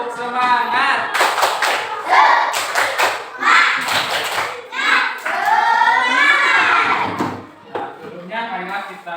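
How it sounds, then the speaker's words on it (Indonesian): A classroom of students claps together in sharp, rhythmic bursts of clapping while chanting in unison, their voices loud and mixed with the claps. "Tepuk bersama-sama, tepuk semangat"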